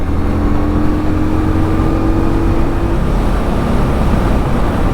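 A 2020 Indian Scout Bobber Twenty motorcycle engine drops a gear while riding, a loud, steady engine drone with a tone that shifts partway through, heavily buffeted by wind noise and with no talking.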